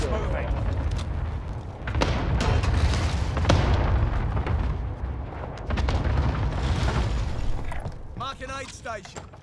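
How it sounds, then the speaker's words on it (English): Cluster strike explosions go off in Warzone: heavy booms and blasts land in rapid succession and rumble loudly under the game's other noise. "Enemy cluster strike."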